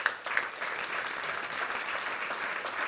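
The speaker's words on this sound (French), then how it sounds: "Merci pour les applaudissements." An audience at a town council's New Year address in Cassis gives steady applause, a moderate, even spread of many hands clapping from a distance throughout.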